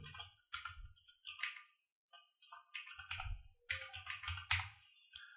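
Typing on a computer keyboard, close and distinct, a quick run of clattering keystrokes in short bursts with brief pauses between words.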